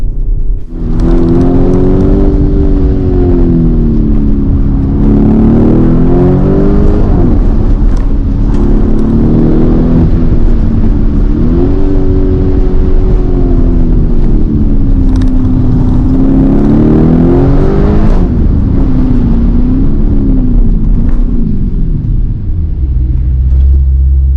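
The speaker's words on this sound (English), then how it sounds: "the exhaust is more throaty, more shouty, louder, harder, faster, and more involving" A Lamborghini Urus SUV's engine and exhaust rev hard and loud for a long stretch, a deep throaty roar rising and falling through repeated throttle blips, close to the listener with no talking.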